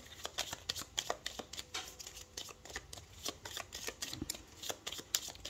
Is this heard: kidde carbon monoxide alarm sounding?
no